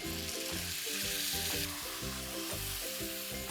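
Aloo do pyaza with its spice paste is stir-fried on a high flame, giving a loud, dense hiss and sizzle with occasional stirring, blended with rhythmic background music.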